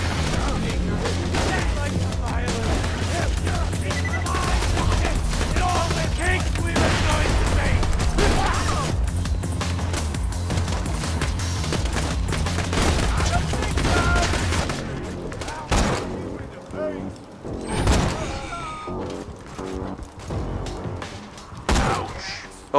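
Sustained gunfire in the Borderlands 2 video game rattles densely and loudly for about fifteen seconds, then thins to scattered single shots and clatter toward the end.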